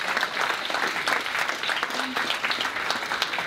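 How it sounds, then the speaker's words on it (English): Applause from an audience at a cancer charity event, a full, continuous patter of many hands clapping, fairly loud and even for the whole stretch. "a round of applause please for asframe.com"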